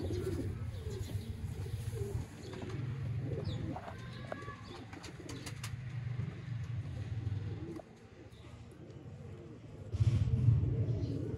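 Red-eyed breeder pigeon pair cooing, low repeated throaty coos close by with soft background noise and a few faint chirps.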